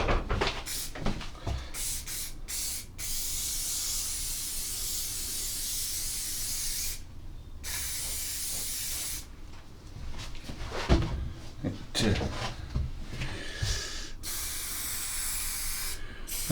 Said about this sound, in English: if it's loose, you'll see the hairspray blowing it